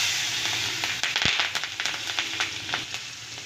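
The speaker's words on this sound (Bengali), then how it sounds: "ওই তেলের মধ্যে দিয়ে দেবো তেজপাতা, দেব গোটা সাদা জিরে, এবারে দিয়ে দেব 4-5টা চেরা কাঁচা লঙ্কা" Bay leaf, whole cumin and slit green chilies hit hot oil with a loud sputtering sizzle, sharp pops and crackles spiking over a steady hiss that gradually eases.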